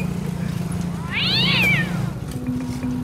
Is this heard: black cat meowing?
yes